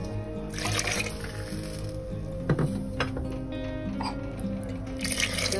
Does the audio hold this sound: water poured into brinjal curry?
yes